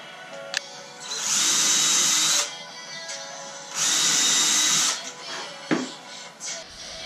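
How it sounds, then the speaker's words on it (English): A power drill pre-drilling small holes in barn wood whirs in two loud, steady bursts of a couple of seconds each, separated by quiet moments with small clicks and knocks. "you have to pre-drill little holes for these"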